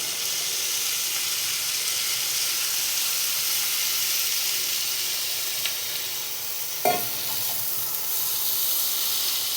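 Banana stem sizzling in a pan of cooked spices, a steady loud hiss of frying that runs throughout, with a brief stirring scrape near the end.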